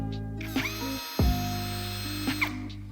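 A Browynn 1380 cordless impact drill in drilling mode whirs up to speed, holds a steady high whine, spins down briefly, then revs again before stopping; close and alone.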